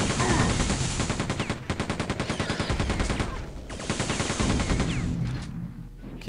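Gunfire in the video game Quake 2: loud, rapid automatic shots in a steady rhythm, running almost nonstop with brief gaps between bursts.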